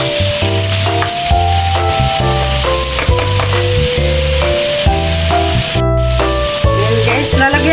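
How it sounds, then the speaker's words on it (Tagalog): Chili stir-fried in a pan for a chicken dish, a loud constant sizzle heard beneath steady backing music that plays throughout. "Stir fry natin siya ng mga 5 minutes."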